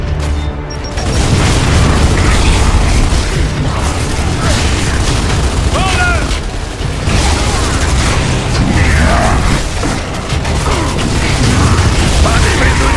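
Explosions and heavy combat in the video game Gears of War 3, with loud booming blasts, mechanical clanks and bursts of gunfire forming a dense, continuous roar that stays loud throughout.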